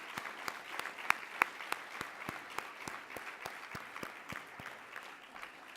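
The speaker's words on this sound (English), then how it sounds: "Big round of applause." An indoor audience claps for a volunteer team, a steady moderate round of applause with crisp individual claps throughout, heard at some distance.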